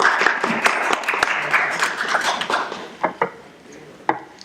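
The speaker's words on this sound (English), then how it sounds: "I'm sure that applause is for me." Applause in a city council chamber, a modest group of hands clapping that thins out into a few scattered, sharp claps before fading away.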